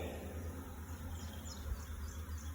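A honey bee swarm newly installed in a top bar hive makes a continuous low droning buzz. It holds steady and close throughout, with no voices.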